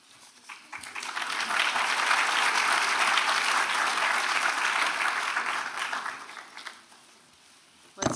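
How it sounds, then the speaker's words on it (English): Dense, steady applause from a large audience at a nursing school graduation ceremony swells within the first second, holds strong for several seconds, then thins out near the end. "Let's give Reggie another round of applause."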